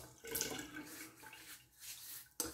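Tap water runs into a sink to wet the face before a straight-razor shave, a steady close splash with a brief surge near the end.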